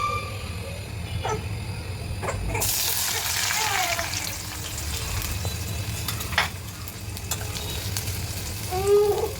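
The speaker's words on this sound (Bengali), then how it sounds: "এখন আমি পেঁয়াজ কুচিগুলো দিয়ে দিব।" Chopped onions hit hot oil in a wok with a sudden loud hiss, then fry in a steady close sizzle with occasional spatula knocks, a faint voice briefly audible near the end.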